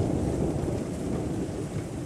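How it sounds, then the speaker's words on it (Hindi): Heavy rain pours down in a dense, steady roar, close and unbroken, with a deep low rumble underneath. "बारिश ऐसे हो रही थी मानो थमने का नाम ही नहीं ले रही।"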